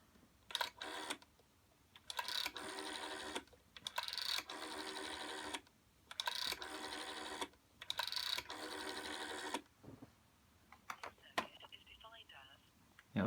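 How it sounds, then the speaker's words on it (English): A 1963 Concord Blue GPO 706 rotary dial telephone is dialled, each spin of the dial followed by a run of rapid clicking pulses as it returns, several bursts with short pauses between them, close and clear. "I'll dial out the line test facility on this phone"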